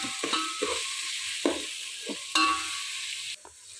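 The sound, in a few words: tomatoes with rock salt frying and stirred on low flame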